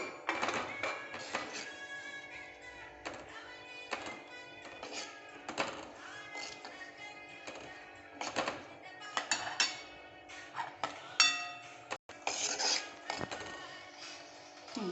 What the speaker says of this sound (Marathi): बघा आता हे ड्रायफ्रूट्स भाजले जात आहेत चांगले तुपामध्ये